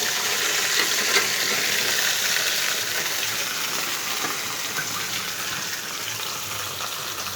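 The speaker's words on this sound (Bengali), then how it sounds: "সিদ্ধ করা জলপাইগুলো ওটার মধ্যে একে একে ঢেলে দেব।" Boiled olives tipped one by one into a hot pan of oil, giving a steady close sizzle and hiss that stays fairly even and slowly eases over several seconds, with no talking.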